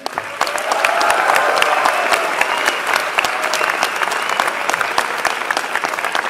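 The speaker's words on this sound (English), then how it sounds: "Let's clap it up for them." A graduation audience applauds steadily and loudly throughout, dense clapping that fills the hall from start to finish, with faint crowd murmur underneath and no talk.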